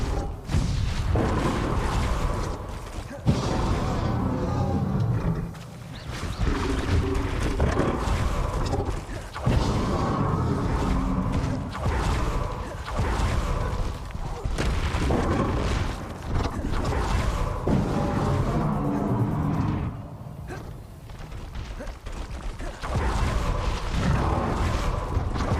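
Spell blasts from a Harry Potter-style video game, Bombarda and Confringo going off as repeated booming explosions with rumbling, clanking combat noise in between over a long stretch.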